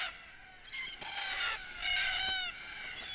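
Red-tailed black cockatoos call at a tree-lined desert watercourse with a few harsh, rolling, wavering cries, moderately near, overlapping in bursts against a quiet background.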